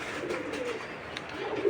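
Racer pigeons cooing, soft low throaty coos from a few birds nearby, faint and steady with no talk.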